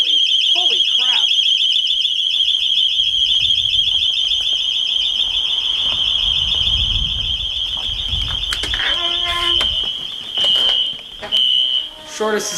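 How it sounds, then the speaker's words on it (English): An AGT fire alarm sounder blares a loud, steady high-pitched tone throughout a fire system test, with people talking and exclaiming nearby under the shrill continuous alarm. "we'll go into the garage so you can see the AGT sounder"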